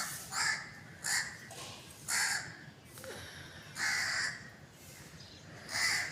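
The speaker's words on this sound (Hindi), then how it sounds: "ये देखे कौवा, इसने शोर मचाया हुआ है।" A crow caws repeatedly from a foggy rooftop, harsh calls arriving in short bursts about once a second with brief pauses, fairly close and clear over a faint background hiss.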